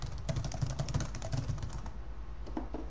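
Rapid, irregular clicking of keys on a computer keyboard, steady and close, with no talking.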